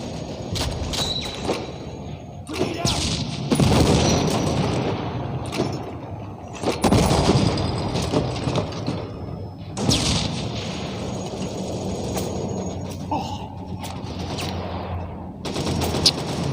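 Gunfire and grenade explosions in the World War Heroes video game, with repeated loud bursts of shots and booms coming in waves throughout, dense and close, a battle scene with no talk.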